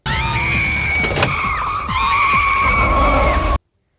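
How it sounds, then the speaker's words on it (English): A girl's stock scream reused in a Disney Channel movie: a loud, sustained, shrill cry lasting about three and a half seconds before cutting off abruptly. "Did you notice that they use the scream, the same exact scream from this girl, twice?"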